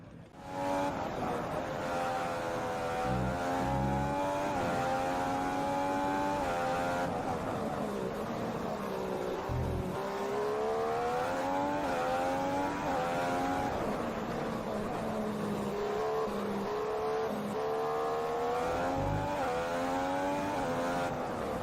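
A Formula 1 car engine screaming through a flying lap at the Hungary round of the F1 2015 video game, high revs climbing and dropping through gear changes, loud and continuous throughout.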